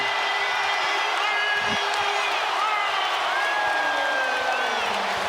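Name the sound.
basketball crowd cheering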